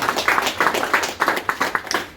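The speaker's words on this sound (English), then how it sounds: "a round of applause" A small group at a classic and vintage car club charity event gives a brief round of applause, the claps sparse and uneven, coming in quick scattered bursts at close range.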